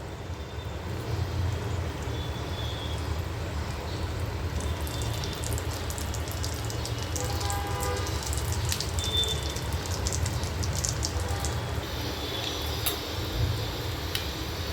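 Roll samosas deep-fry one by one in moderately hot oil on a low flame, giving a constant close bubbling sizzle with faint scattered ticks and pops throughout.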